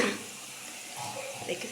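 Water poured into a cooking pan while making uppittu (semolina breakfast), a soft, brief splashing trickle heard faintly and close by.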